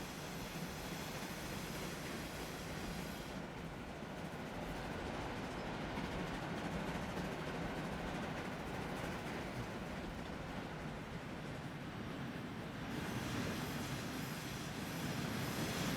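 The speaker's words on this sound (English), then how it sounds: "we're going to follow this train for a bit longer" An 1850s-era train in Transport Fever 2 labours uphill on rails, a continuous heavy rumble of rolling wagons with steady wheel noise and faint squeal, sustained and fairly loud without voices.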